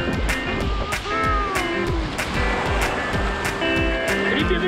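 Ocean surf rolls and crashes close by in a steady, loud wash of breaking waves with rhythmic low thumps.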